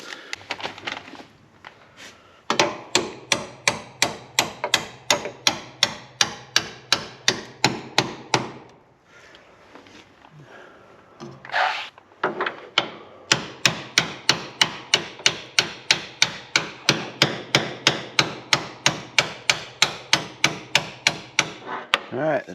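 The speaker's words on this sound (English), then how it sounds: "I might get a hammer and tap that a little bit." Rapid, steady hammer taps on a metal door hinge pin of a 1973 Chevy Nova ring out in long runs, pausing briefly with some shuffling before the rhythmic tapping resumes, close and loud.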